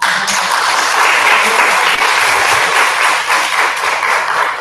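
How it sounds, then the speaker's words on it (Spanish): Loud, continuous applause from a seated audience welcoming a guest speaker at a talk, a dense wash of clapping heard by itself from start to finish. "la recibo con fuertes aplausos"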